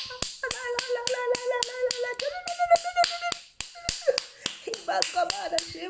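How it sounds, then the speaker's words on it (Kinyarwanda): A church congregation claps for Jesus in a steady, sharp rhythm of hand claps, with voices singing and calling out over the beat throughout. "Komera Yesu amashyi ahantu uri"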